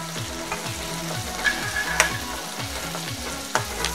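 Homemade red chilli masala fries in a pan for ridge gourd bhaji, a steady sizzle broken by a few light clinks and scrapes of a spoon stirring.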